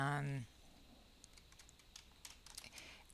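Faint, irregular clicking of keys on a computer keyboard, typing into a form, follows a brief voice at the start and carries on quietly through the rest.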